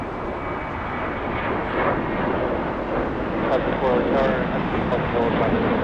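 An airliner takes off at LAX, with a steady, loud roar of jet engines that swells slightly toward the end, heard from a distance with wind on the microphone.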